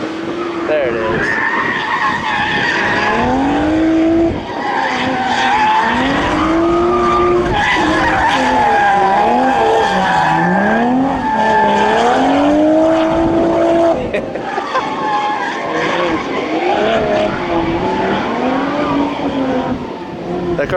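A race car rips across a track with constant engine roar and sliding, squealing tires, the pitch swooping up and down as it drives a loose line through the midsection; someone talks over it.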